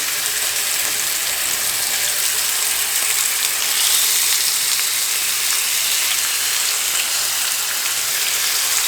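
Garlic butter pork chops fry in a cast iron skillet with a steady, close, bright sizzle and crackle of hot fat, continuous throughout.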